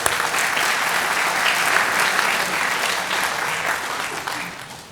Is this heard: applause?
yes